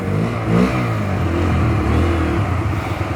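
A Bajaj Freedom 125 motorcycle with a full digital meter runs in CNG mode. Its engine gives a brief rev near the start, then settles into a steady, close, throbbing idle, heard alone.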